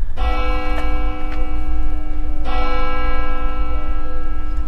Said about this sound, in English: The bell invites me, for it's a knell that summons thee to heaven